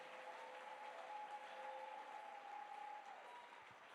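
Loud applause from a church congregation, a dense, steady wash of clapping that holds for the whole stretch and eases slightly at the end, with a faint sustained tone running beneath it.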